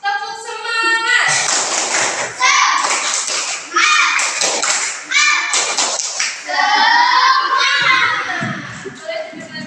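A classroom of fourth-grade children stand and perform a rhythmic spirit clap, sharp close claps in a patterned beat mixed with loud chanting young voices.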